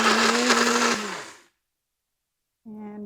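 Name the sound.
blender pureeing ripe mango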